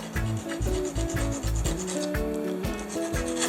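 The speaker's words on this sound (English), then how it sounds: "I'm going to see if I can gently file off the threads a little bit to give them a little bit of a taper" A hand file rasps back and forth across the threads of a snapped bolt, a loud close rhythmic scraping in repeated strokes of roughly a third of a second, with no talking.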